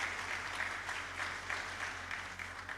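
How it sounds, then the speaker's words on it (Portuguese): An audience at a business panel on entrepreneurship and finance claps steadily, a dense, even patter of many hands heard from a distance that lasts throughout. "uma salva de palmas aí para o nosso amigo Antony."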